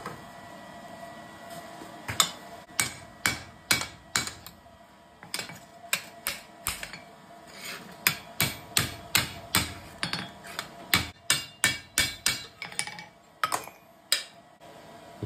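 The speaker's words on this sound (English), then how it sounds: "I'm gonna go ahead and pound that rivet down in there." Hammer blows pounding a rivet on a forged iron door knocker, sharp metallic strikes in irregular bursts, some rapid and some spaced, loud and close with quiet gaps between.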